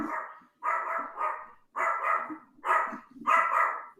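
A dog barks in loud, rough bursts, five or six harsh barks spaced across a few seconds with short gaps between them, close by and with no talking over it.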